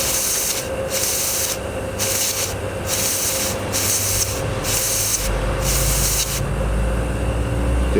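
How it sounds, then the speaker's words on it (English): Dry steam hisses steadily from a small boiler under test at about 60 psi, a loud, continuous rushing spray with a regular on-off pulsing in its upper hiss, heard close and alone. "Nice dry steam."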